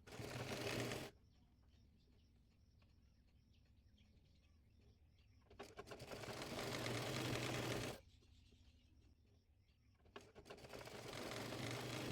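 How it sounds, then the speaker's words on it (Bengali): A sewing machine stitching a folded petticoat waistband runs in three steady bursts of fast, even whirring and clatter, separated by quiet pauses, close and moderately loud, with no talking. "এরপর বেল্টের কাপড়টি মুড়িয়ে সেলাই করে নেব"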